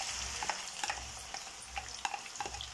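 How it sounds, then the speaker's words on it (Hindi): Finely chopped onions fry in hot oil for a fish curry, giving a soft, close sizzle broken by scattered crackles and stirring scrapes, with no voices. "हमने ऑयल अपना गरम करने के लिए रख दिया था तो इसमें हमने डाल दिए हैं जो हमने बारीक कट प्याज कटी हुई थी"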